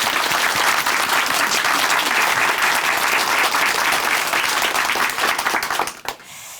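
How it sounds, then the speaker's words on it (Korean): Loud, sustained applause from a studio audience at a Korean Christian television program, a dense wash of clapping that holds steady for about six seconds before tapering off. "우리 김은진 자매님께 다시 한번 큰 박수 보내드릴게요."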